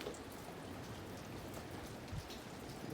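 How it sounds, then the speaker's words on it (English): Light rain falls steadily across a garden on a breezy day, a soft, even patter of drops on leaves and surfaces that holds constant throughout with no voices. "But it's a rainy day"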